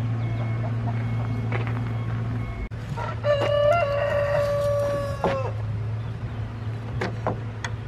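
A chicken sitting in a pickup truck lets out one drawn-out squawking cluck near the middle, over a steady low engine-like hum and faint background clatter.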